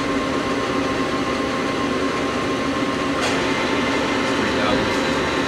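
A Hardinge Conquest T-42 big bore CNC slant bed lathe runs its live tool at 2,000 RPM, giving a constant, moderately loud machine drone with a faint steady whine and a brief higher swish partway through.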